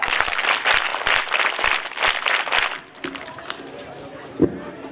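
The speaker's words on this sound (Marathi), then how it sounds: "त्यामुळे तुम्ही अजून एकदा टाळ्या वाजवा." A school audience claps loudly and steadily for a few seconds, then the applause cuts off, leaving a quieter room with faint murmurs and a single sharp knock.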